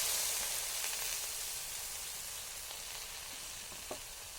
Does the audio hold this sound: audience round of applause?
no